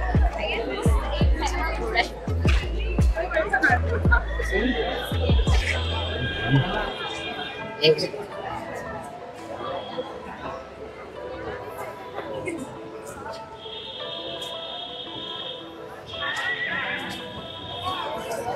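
Neighing and whinnying from a horse art installation at the Kala Ghoda festival, repeated calls with clip-clop hoofbeats over a busy outdoor crowd with children and people talking nearby.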